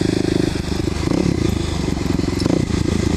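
A Kawasaki KLX250SF with a Muzzy exhaust and a bore kit runs steadily while riding, its engine giving a loud, close, unbroken buzzing drone with a slight crackle.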